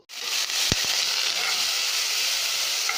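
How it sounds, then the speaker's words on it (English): Onions and green chilies drop into hot oil with a sudden loud sizzle that starts abruptly, followed by a couple of low thumps, then a strong steady frying hiss that continues close and unbroken. "Once the oil is heated, I'm going to add the onions and green chilies."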